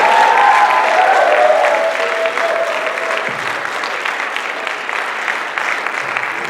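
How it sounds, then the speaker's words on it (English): An audience applauds after a stand-up comedy set at a charity show. The clapping is loud and dense at first, then thins slightly as it carries on for several seconds, with a faint voice near the end. "Give him a round of applause."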